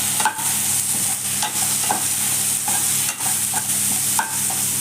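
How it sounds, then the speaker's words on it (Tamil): Peas fry in oil in a pan with a constant bright sizzle, punctuated by regular stirring scrapes roughly every second, close up and fairly loud, with no talking. "பட்டாணி ஒரு 5 நிமிஷம் எண்ணெய் வதங்கி வேகட்டும்."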